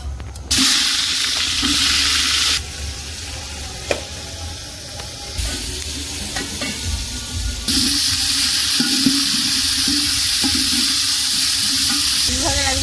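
Vegetable stems drop into hot oil in a pot after bay leaf, dried red chilli and five-spice tempering, setting off a loud, steady sizzle that surges and dips as the pan is stirred, with occasional clinks, close and continuous.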